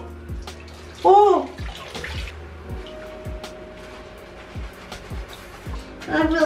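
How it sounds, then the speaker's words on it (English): Tap water running into a bathtub while hair is washed by hand, splashing and dripping steadily close by, with a few louder gushes and brief vocal sounds over it. "So I'm just gonna wash my head like old school style."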